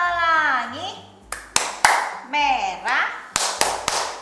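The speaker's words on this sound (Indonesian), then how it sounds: "Tepuk lagi, kita tepuk pelangi ya." Children and a teacher in an online kindergarten class play a rhythmic rainbow clapping game, with sung words and crisp hand claps in a quick pattern, claps falling between the singing.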